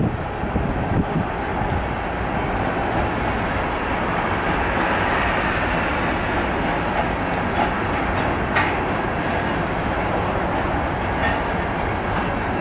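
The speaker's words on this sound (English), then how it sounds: "Oh, he's slow. The train is slow." A BNSF ES44C4 locomotive leads a slow grain freight train past at close range in El Paso, Texas, a continuous low roar with faint rhythmic clatter of wheels on rails, no voices.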